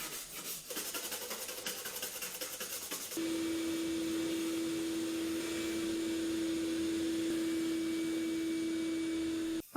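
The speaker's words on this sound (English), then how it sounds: "took a metal brush to it to clean it up a little and then vacuumed it off" A vacuum cleaner cleans off a wire-brushed, rusty underdash support inside a school bus conversion, starting with clattering handling noise, then settling into a loud, steady motor whine that runs unbroken until it cuts off at the end.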